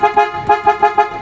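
A Pia Superior Bass aftermarket horn on a Kia Stonic sounds in a rapid series of short, loud, full-bodied toots, about five quick blasts packed into just over a second.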